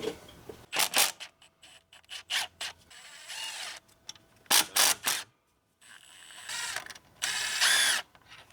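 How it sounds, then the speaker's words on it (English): Bolts on the top cover of a Duramax thermostat housing being loosened with a ratchet, giving bursts of clicking pawl and metal rattle separated by short pauses, close and fairly loud. "we're gonna go ahead and remove this top cover, and there's 4 12mm bolts that we have to remove"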